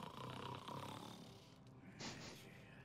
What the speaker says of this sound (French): Le gros ronflement.